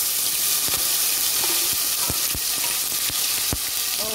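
Tomato and fresh curry leaves hit a hot pan of oil with asafoetida while cooking a moong sabzi, giving a loud, steady sizzle and hiss throughout, with occasional stirring clatter.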